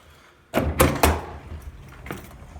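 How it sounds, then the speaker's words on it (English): A door opens after a code is entered on an IEI 212i keypad, giving a sudden clunk followed by a few sharp rattling knocks and fading mechanical noise, close and moderately loud. "you press 1225 star again, and the door opens"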